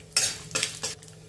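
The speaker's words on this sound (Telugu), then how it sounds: "2 ఎండుమిరపకాయలు తుంచి వేసుకోవాలి." Broken dried red chillies dropped into a sizzling tempering in a pan, heard as three short bursts of crackle and spoon scraping over a quiet background; no voices.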